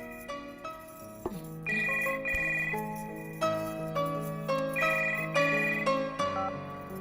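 A telephone rings with a melodic electronic ringtone, its bright chiming phrase repeating several times at an even pace, steady and fairly close, with no voices.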